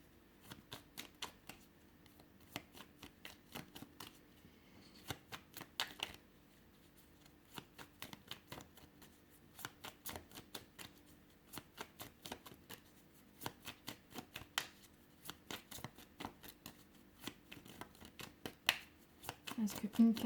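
A deck of oracle cards is shuffled in quick, crisp riffling bursts that come and go over a low hum, with a voice speaking now and then between the shuffles.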